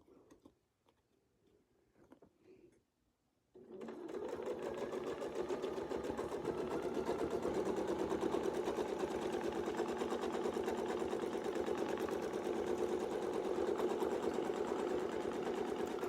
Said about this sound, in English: you'll be able to control your stitches better if you have a machine that has that sound as you go